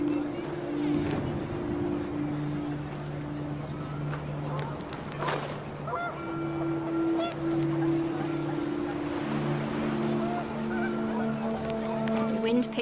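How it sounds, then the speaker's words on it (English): Panicked geese honk in a gusting wind in What Remains of Edith Finch, scattered calls rising over a steady windy hiss and low droning tones, mixed with talk. "panicked geese appeared and quickly went"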